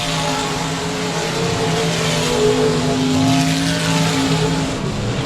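Race cars roar around the 67 Speedway of Texarkana dirt track, a loud, continuous engine drone that swells and holds as the pack passes, with no speech.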